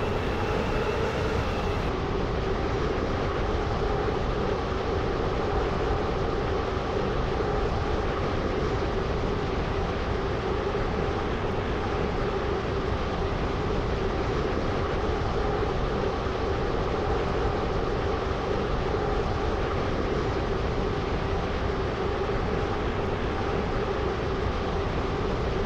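Continuous rumbling train running in the Stepford County Railway video game, a Stepford Connect service, steady loud broadband roar for the whole stretch with no break and no talk.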